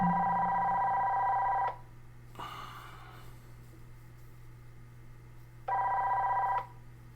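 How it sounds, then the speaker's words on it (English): A telephone rings in two loud bursts of steady electronic trilling, separated by a few seconds of quiet room tone, during an online card game session. "Apologies once again for the phone call."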